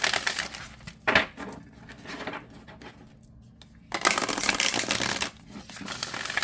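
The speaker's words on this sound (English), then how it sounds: "Let's see how it shuffles." A deck of oracle cards being riffled and bent, with a sharp snap near the start, a quieter stretch, then a longer dense burst of crisp papery flutter toward the end, close by and with no talking.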